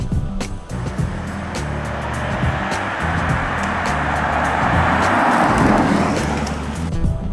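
A car drives past a police speed trailer, its broad road and engine rush building steadily and peaking near the end, heard from inside the vehicle with no talking.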